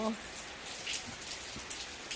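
Steady rain falls throughout, a dense even patter of drops on surfaces with a few brighter splashes, continuous and fairly close.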